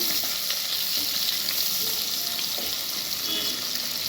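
Two roughly chopped onions hit hot oil with bay leaves, giving a steady, dense sizzle and crackle that carries on evenly without speech.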